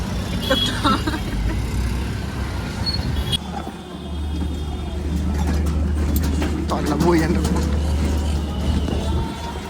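Cycle auto-rickshaw ride through Delhi traffic, continuous road and engine rumble with passing vehicles close by, while people chat over the noise.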